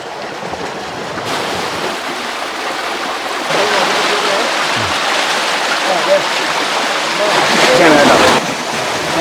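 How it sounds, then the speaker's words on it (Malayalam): Water rushes loudly and steadily through an opened sluice shutter as boards are removed, swelling about midway and staying strong, a broad churning roar. "അവിടെ വെള്ളം ചാടി തുടങ്ങി കേട്ടോ"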